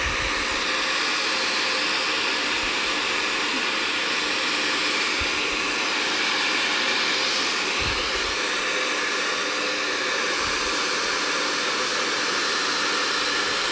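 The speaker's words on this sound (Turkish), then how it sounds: "Hemen ben fönü alıyorum tekrar." A hair dryer blows steadily to dry transparent glue on a stencilled relief panel, a loud, continuous, close airy hiss with a few faint low bumps of handling.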